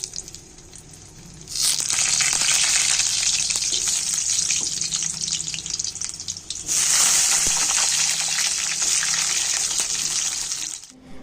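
Meat sizzles loudly in a hot pan in a bright, continuous hiss that swells in two long bursts, with no talking over it.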